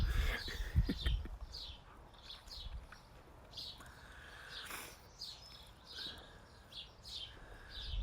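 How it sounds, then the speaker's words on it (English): Birds call repeatedly in short chirping phrases at moderate distance, with some low thumping and rustling nearby. "It's just the birds making the noise."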